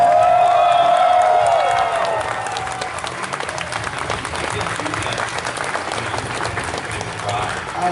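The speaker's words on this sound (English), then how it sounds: "I'm not sure about that round of applause" A crowd applauds steadily, dense clapping filling the space, with some cheering mixed in near the start.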